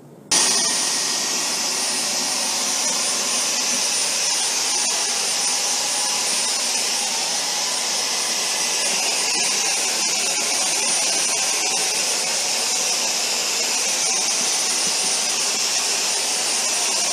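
A Dyson Omni-glide vacuum cleaner runs on a tile floor with a loud, steady high-pitched whine and airy rush that starts abruptly and holds constant with no talking.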